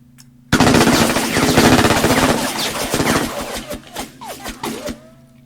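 Machine gun fire in the video game Heroes of the Nam, a loud, sudden burst of rapid automatic shots that continues for several seconds before breaking into scattered single shots with ringing tails.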